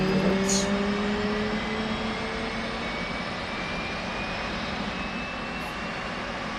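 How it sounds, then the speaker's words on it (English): Auxiliary power unit of an F/A-18 jet spooling up in the DCS flight simulator game: a quiet, steady whine and hum with tones slowly rising in pitch, joined by a couple of brief clicks. "While the APU is spooling up, I'm setting the lights."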